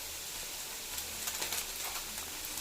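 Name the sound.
ginger garlic paste frying in pan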